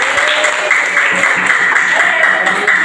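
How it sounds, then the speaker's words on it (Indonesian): Classroom applause from a group of students during a teaching session, a steady, dense burst of clapping lasting a few seconds with a faint voice mixed in. "Tepuk tangan untuk beliau."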